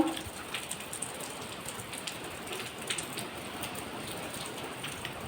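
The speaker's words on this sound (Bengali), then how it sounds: "একবারও বৃষ্টি বন্ধ হচ্ছে না" Heavy rain falls without a break on the fourth day of downpour, a constant close hiss with scattered drops striking a surface nearby. No voices are heard.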